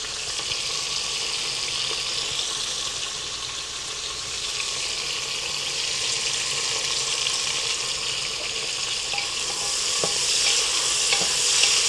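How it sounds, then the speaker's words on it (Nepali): Chopped onions frying in hot oil in a pan at the start of a home-cooked local chicken soup: a steady, close, loud sizzle that holds for the whole stretch, with no voices. "मेरो यहाँ तेल खारिसकेको छ। प्याज लगाइदिन्छु।"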